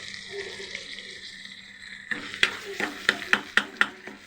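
Vegetables fry in a pan with a soft steady sizzle, then a series of sharp scraping and tapping stirs from a utensil against the pan in the second half.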